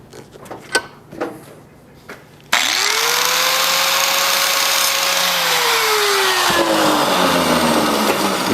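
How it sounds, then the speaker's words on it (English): Harbor Freight angle grinder with a cutting wheel spins up loudly after a few quiet knocks, holding a steady high whine for several seconds before winding down near the end. "You just get a grinder for cutting, a grinder for grinding, and a grinder for wire wheeling."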